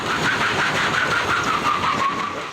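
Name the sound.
fire rescue pickup truck engine pulling burning car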